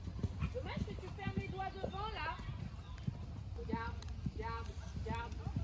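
A horse's hooves clip-clop in a steady rhythm during a riding lesson, partly buried under ongoing conversation between people nearby.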